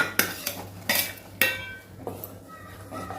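A spoon clinks against a pot while stirring crumbled pedhas into hot milk, several sharp metallic taps with softer scraping between them, close and moderately loud.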